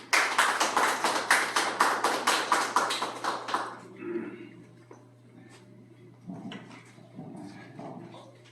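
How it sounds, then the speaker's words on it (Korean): Rhythmic group clapping at a DMZ unification forum, loud evenly spaced claps for about four seconds before fading into quieter room noise with faint movement and a constant low hum. "박수로 맞이해 주시면 감사하겠습니다"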